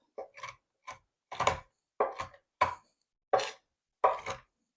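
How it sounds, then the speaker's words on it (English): A knife rough-chopping caramelized pecans on a cutting board, about eight sharp, close chops in an uneven rhythm with short pauses between them. "we're just going to do a rough chop."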